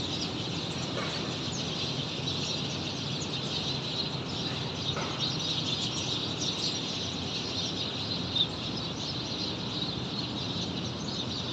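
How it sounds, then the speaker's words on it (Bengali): Many birds chirp continuously from trees, including a jackfruit tree, beside a factory at midnight, forming a steady, dense twittering chorus with no talk. "এই যে এগুলো সব পাখি।"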